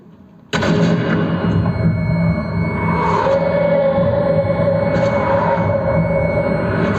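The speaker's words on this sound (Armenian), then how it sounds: "Ժողովուրդ, կրակում ենք ժալյուզին, ցանց է դառնում, ծակում դուրս ենք գալիս," Gunfire rips through window blinds in a video game, a sudden loud onset followed by a steady, dense barrage of shots with no talking.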